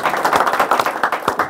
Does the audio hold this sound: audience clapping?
yes